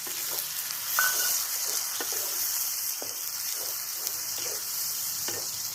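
Spice-rinse water splashes into Kashmiri red chili masala sautéing in a pan for Rangpur-style egg telani, giving a steady close sizzle with soft stirring scrapes and a few brief clinks throughout.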